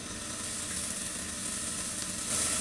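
Chopped onion is scattered over a hot griddle for rava dosa, producing a steady, moderately loud sizzle close by that swells slightly at the end.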